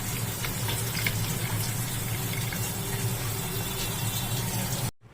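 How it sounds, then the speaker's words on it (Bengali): Rinse water from a mixer grinder jar used for ground sesame paste, poured into a tiffin box as a steady close splashing trickle that stops abruptly at the end. "তিল বাটার এই মিক্সি ধোয়া জলটাও আমি এর মধ্যে দিয়ে দেবো"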